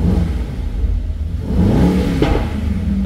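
A Mercedes-AMG GT 63 S sports car engine in race mode hums at a low idle, then rises in a brief rev before settling, heard close and steady with no talking.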